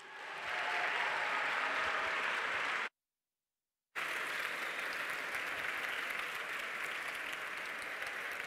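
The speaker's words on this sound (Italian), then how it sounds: "un enorme applauso ad Enrico Mentana" Sustained audience applause greets a guest, journalist Enrico Mentana, taking the main stage at a live event, dense and steady, cut by a second of silence, then resuming just as full.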